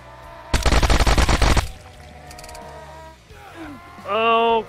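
Rapid burst of automatic gunfire from the video game Jaws Of Extinction, loud and dense for about a second, followed by quieter game sounds and a tonal effect near the end.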